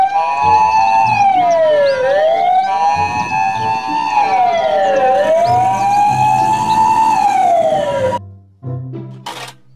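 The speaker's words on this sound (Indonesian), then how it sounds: "Mobil ambulans." A loud wailing siren rises and falls repeatedly, close and steady, like a toy ambulance, ending with a brief electronic jingle.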